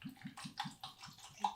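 C-41 film developer poured into a developing tank, a short close stream with a watery, gurgling splash that pulses in quick uneven bursts, heard alone and fairly quietly.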